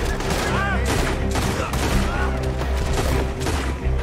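Sustained rapid gunfire from a Red Dead Redemption 2 shootout, dense overlapping shots continuing throughout at steady loudness, with music and game voices mixed underneath.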